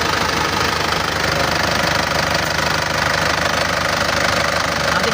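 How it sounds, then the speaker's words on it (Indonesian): An Isuzu Panther LV engine idles nearby with a loud, even, knocking rattle that stays constant the whole time, with no speech over it. "sekarang kita cek di bagian mesin dulu"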